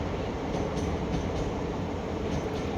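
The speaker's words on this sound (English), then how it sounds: "when you're going in train and the train slows down" Inside a moving train car, a steady broadband rumble of wheels and rail carries through the whole stretch, with faint rhythmic clicks; no clear change in pace is evident.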